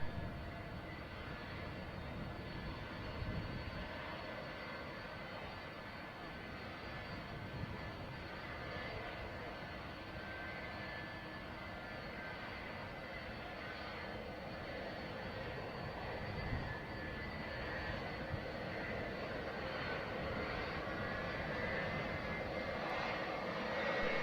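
A departing heavy Boeing 747 jet in gusty, windy airport conditions gives a steady, fairly distant broadband engine roar that holds for the whole stretch, with a faint high whine running through it and no voices.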